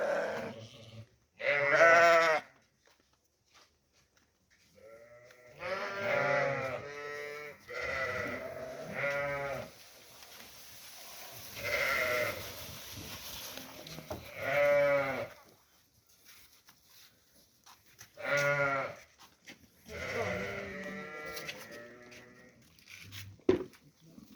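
Rams bleat repeatedly on a farm at feeding time, loud calls in bursts with short quiet gaps, some overlapping, and cold outdoor ambience between them.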